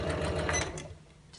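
A domestic sewing machine stitches lined fabric for an appliqué tote bag in a quick, steady mechanical rattle that runs for under a second, then stops, leaving quiet room tone.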